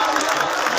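A crowd at a gathering breaks into a brief, dense burst of applause and cheering, a loud wash of clapping and voices lasting under a second.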